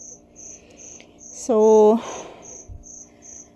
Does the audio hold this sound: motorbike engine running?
no